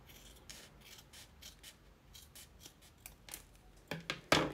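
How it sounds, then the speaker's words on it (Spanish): Scissors snip loose threads on a fabric ID card holder, a run of light, crisp cuts spaced out across the clip, with a few louder, sharper snips near the end, heard close and alone. "Aquí también les voy a recortar los hilos. Las cuatro partes lo vamos a recortar."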